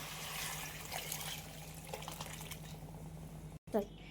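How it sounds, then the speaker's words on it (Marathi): Water is poured into chole gravy cooked without onion or garlic, a soft, quiet splashing pour in the first half that thins out, followed by a brief knock near the end. "पाणी घालूया."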